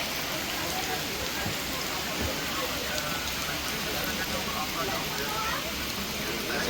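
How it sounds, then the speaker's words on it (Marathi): Heavy rain pours steadily on a village in the Konkan region of India, a dense, close hiss, with occasional low thumps underneath and no clear voices. "गावी जोरदार पाऊस आहे"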